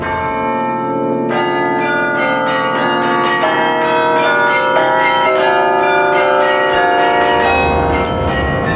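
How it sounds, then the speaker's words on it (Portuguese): Carillon bells at the Mafra convent are played by a carillonneur, a loud, ringing melody of struck bells that overlap and sustain without a break. "os carrilhões cá estão, e vamos ver que ainda há quem os toque"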